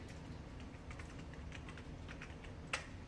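Computer keyboard keys tapped at a steady, light pace while entering an allergy into an electronic health record, the clicks soft and close over quiet room noise, with one sharper keystroke near the end.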